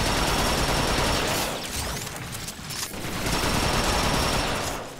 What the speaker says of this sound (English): A minion is shooting there, that's always good to see